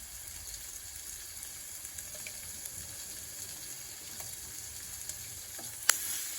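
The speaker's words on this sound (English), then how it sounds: "saute that garlic in there for about 30 seconds or so" Minced garlic sizzles softly in a pan with lamb, a steady quiet frying hiss, with a sharp utensil clink near the end.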